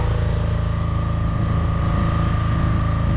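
Boat engine running in the engine room of a large fishing boat, a loud, steady, close diesel drone with a constant throbbing low rumble and no talking over it.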